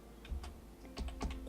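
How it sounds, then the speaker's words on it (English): Soft, quick keystrokes on a computer keyboard, a handful of light clicks in short irregular bursts, close and quiet with no talking. "I'm typing this into chat."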